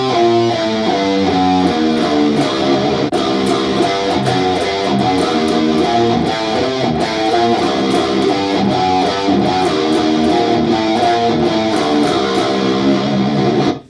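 A guitar riff in the Dorian raised 4th mode plays with dense, continuous harmonic texture, steady and loud for about fourteen seconds with a backing mix, no voices.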